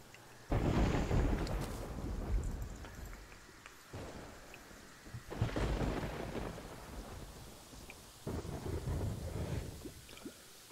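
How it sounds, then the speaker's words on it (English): Thunderstorm in the video game Terraria, with steady rain hiss and several deep rolling thunder rumbles swelling and fading across the scene, no voices. "Very stormy outside."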